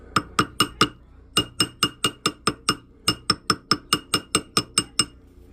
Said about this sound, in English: now we'll go to our ball peen hammer here, but we're just going to tap on the bottom